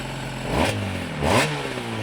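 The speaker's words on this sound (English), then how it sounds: "Okay, so give it a bit of rev. Give it a little bit." A Suzuki RG motorcycle engine, a two-stroke running rich, blipped twice in quick succession, each rev rising sharply then falling back to a lumpy idle, close and fairly loud.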